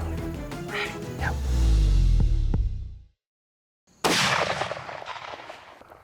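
Rifle gunshot at a bull elk during an elk hunt, heard as a sharp, loud crack that cuts in after a brief silence and trails off in outdoor echo; earlier, close low rumbling handling noise and scattered clicks precede it.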